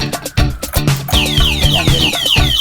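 A motor scooter's anti-theft alarm blares nearby: a loud electronic siren of rapid, repeating rising chirps over a steady pulsing low beat, continuous for a couple of seconds with no talking.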